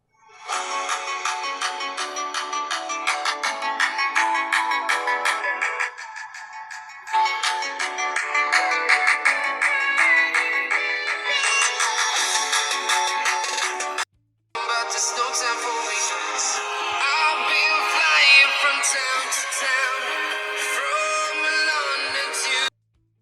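A ringtone plays from a phone's single bottom-firing speaker, a bright, busy electronic melody at moderate volume that loops continuously for about twenty seconds, with a short gap partway through.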